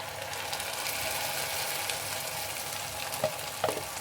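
Tomato puree and onions fry steadily in a pan for a kadai paneer gravy, a continuous close sizzle with a couple of soft stirring clicks near the end and no talking.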